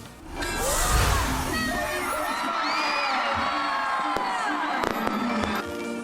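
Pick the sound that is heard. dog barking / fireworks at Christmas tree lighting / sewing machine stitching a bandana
fireworks at Christmas tree lighting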